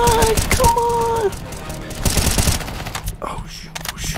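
Rifle gunfire in CS:GO, rapid bursts of shots rattling off close and loud, with brief gaps between volleys and background game sounds.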